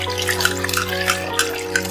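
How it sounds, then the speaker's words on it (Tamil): Water splashes and trickles as sliced raw plantain pieces are rinsed in a bowl, with a steady low hum underneath. "அதுக்காக தண்ணியில போடுறது நல்லா கழுவிக்கிறணும்"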